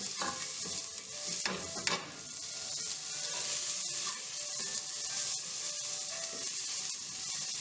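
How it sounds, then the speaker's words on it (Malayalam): Onions sauté in a pan for paneer fried rice, a bright steady sizzle with a few scraping stirs near the start, close and fairly quiet. "സവോള നന്നായിട്ട് വഴലണം."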